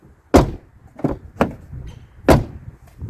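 Ford car door handle pulled twice from inside to unlock a locked door, giving several sharp mechanical clunks and latch clicks at close range, with a brief rattling pause between pulls.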